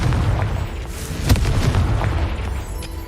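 Confringo explosion spell going off in Hogwarts Legacy on PS5: a loud, continuous rumbling blast with a sharp boom near the middle, dense low-end roar throughout, no talking.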